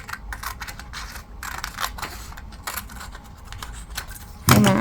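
Scissors snip through paper in a quick run of close, crisp cuts and rustles. The cuts come in uneven bursts, and a louder rustle of paper follows at the end.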